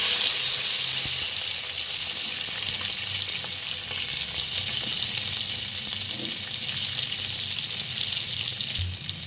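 Onion added to oil with curry leaves and dried chilli for green gram rice, sizzling in a pan with a constant loud crackling fry and occasional stirring scrapes.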